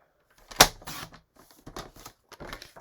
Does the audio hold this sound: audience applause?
no